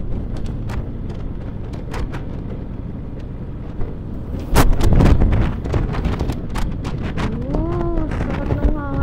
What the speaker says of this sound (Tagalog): Sakit ng hangin.